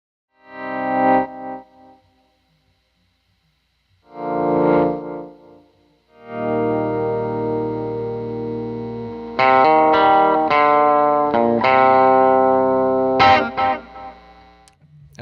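Electric guitar played through an Earthquaker Devices Dispatchmaster delay and reverb pedal set to a slightly longer delay, with short chord strums separated by pauses, then sustained ringing notes with repeating echoes and a reverb tail, loud and close.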